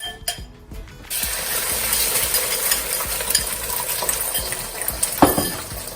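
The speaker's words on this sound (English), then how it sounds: "you want to beat 3 eggs, or 2 eggs, 1 egg, depends on you" Eggs being beaten with a fork in a bowl make a quick, rhythmic clicking that runs steadily for several seconds over a constant background hiss, with one sharper knock near the end.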